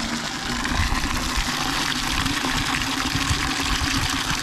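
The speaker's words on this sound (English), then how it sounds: "Glad the water wasn't froze up this morning." Water from a farm well pours and gushes steadily on a freezing winter morning during livestock chores, a continuous close rushing flow with no talk.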